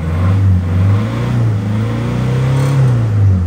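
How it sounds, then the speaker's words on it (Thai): A Toyota Tiger pickup's engine revs up steadily, its droning note rising in pitch and holding loud and close throughout, with no voices over it. "เร่งนะครับดูเร่งให้ดู"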